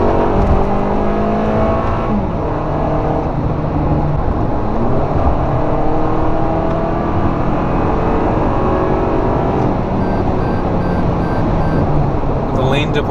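A 2019 Toyota RAV4 XLE accelerating hard on the highway to pass, its engine note rising steadily under constant road and wind noise heard from inside the cabin.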